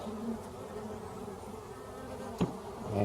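Honeybees buzz steadily throughout a nucleus hive inspection, a dense close drone with one brief sharper knock near the end.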